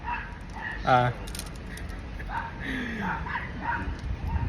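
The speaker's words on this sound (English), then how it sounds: "I didn't know there'd be dogs here" Dogs bark and yip at a distance, one brief louder bark standing out among fainter yelps, heard under a person talking nearby.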